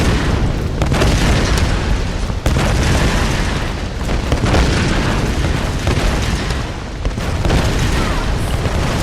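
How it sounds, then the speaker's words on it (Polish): Repeated heavy explosions boom through Tomb Raider (2013) as everything blows up during an evacuation, a loud, sustained barrage of blasts and rumbling debris with a few sharper bursts standing out. "Ja kole, wszystko wybucha."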